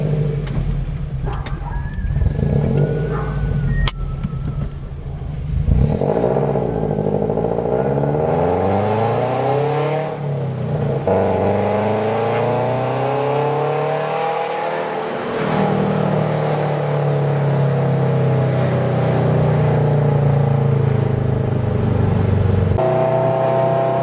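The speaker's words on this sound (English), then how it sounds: "this is gonna be a sound clip of inside the car." Cabin sound of a car fitted with Tomei UEL exhaust headers, a loud engine drone rising and falling through several accelerations and gear shifts, steady and close with no talking.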